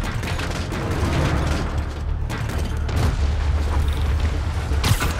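Rocket explosions in the video game Marvel's Spider-Man Remastered, a continuous, loud wash of booming blasts and rumbling debris with a few sharper bangs, dense and close throughout.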